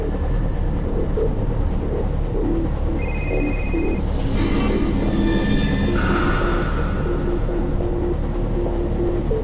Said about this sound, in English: That train will take you directly to the department store.